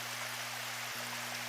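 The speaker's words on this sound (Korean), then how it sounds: "은유폭포가 굉장히 거대한 폭포임을 알 수 있습니다" Eunryu waterfall in Cheonghak-dong valley on Suraksan pours in a steady, unbroken rush of water, a soft, even hiss with a low hum beneath it and no voices.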